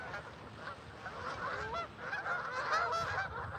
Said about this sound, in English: There's geese everywhere.